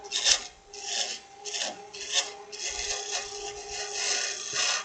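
Woodturning tool cutting into wood spinning on a lathe while shaping a small snowman, giving close, bursting scraping and rasping passes with a faint steady hum underneath and short pauses between cuts.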